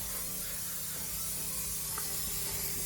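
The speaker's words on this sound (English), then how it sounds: "So for the detail spray, we're literally just gonna spray everything like this" Detail spray hisses in a steady, faint mist across the interior of a salvage-title Duramax truck, a soft continuous spray with no voices.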